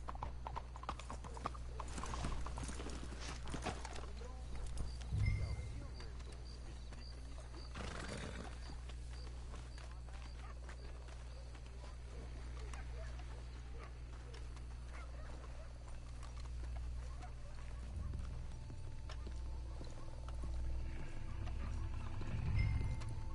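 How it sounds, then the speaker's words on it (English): Horse hooves clip-clop steadily in Red Dead Redemption 2 as riders move along, a continuous rhythmic trotting under a low ambient rumble with occasional snorts. "Let's hitch the horses up ahead."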